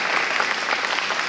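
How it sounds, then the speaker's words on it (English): A brief, steady round of audience applause at an awards ceremony, with dense, even clapping filling the moment at a moderate level. "A round of applause for him again."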